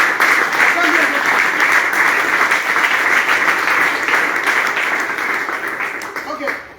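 Steady, dense audience applause at a prophetic spiritual training session, loud and sustained for several seconds before tapering slightly at the end.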